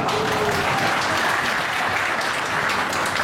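A church congregation at an evening praise and appreciation service gives a burst of applause for the choir, dense, loud clapping that carries steadily for the whole stretch without speech.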